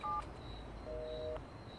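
A telephone is dialed: two short bursts of touch-tone beeps, one early and a longer one later, sound fairly faint over steady room noise.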